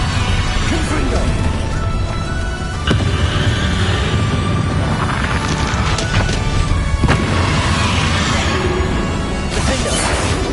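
Confringo fire spell blast in Hogwarts Legacy, loud crashing booms and whooshing impacts repeating through a chaotic spell fight, with a voice calling out spell names.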